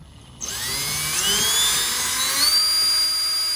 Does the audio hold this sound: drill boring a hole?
yes